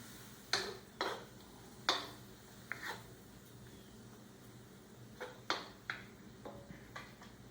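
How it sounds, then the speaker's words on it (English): Meat for peppered steak stirred in a pan, with a handful of sharp scraping clinks of the utensil against the pan at irregular intervals over a faint steady background. "Let me stir the meat here."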